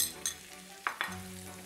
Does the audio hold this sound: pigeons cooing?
no